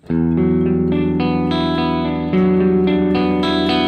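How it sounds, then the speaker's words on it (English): An electric guitar with slight distortion, played on the single-coil middle pickup position, rings out in sustained overlapping notes and chords, loud and continuous with a reverberant effects sheen. "I might go distorted a little bit like this and go into the middle position to get a little bit of that distortion"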